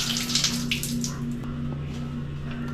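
Shower water running in a studio apartment bathroom, a steady hiss of spray with a faint low hum underneath, close and continuous with no talking.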